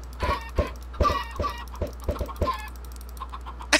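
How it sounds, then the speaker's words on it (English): Short, choppy chicken clucks in a video game come in a quick irregular series, then trail off into quiet with a final sharp cluck; slightly synthetic-sounding. "I like chickens, and I hope Drew likes chickens as much as I do."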